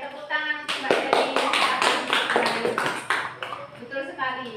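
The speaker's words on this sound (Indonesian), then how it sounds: "Oke, tepuk tangan untuk Mbak Devi." A classroom of students claps for a classmate, a brief burst of scattered, uneven hand claps with speech running over and around it.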